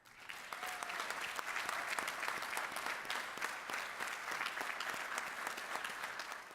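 An audience at an armed services ceremony applauds servicemen and women, a sustained, even roar of many clapping hands heard from a distance, with no talking over it.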